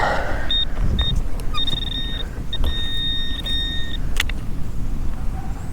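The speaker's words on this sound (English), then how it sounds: "let's try the pinpointer." A metal detecting pinpointer beeps near a gold nugget in a prospecting field. It gives short, then longer, high steady tones that start and stop, over a loud, constant rumbling background of wind or engine noise.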